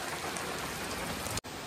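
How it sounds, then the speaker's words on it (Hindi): Steady, dense rain pours down hard across a surface, a constant hiss with a brief cutout near the end. "अब जाके आई है बारिश।"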